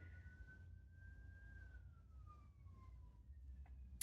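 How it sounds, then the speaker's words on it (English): A police siren wails faintly in the distance outdoors, its tone gliding slowly downward as it passes, over a low rumble of traffic. "Sorry about the sirens"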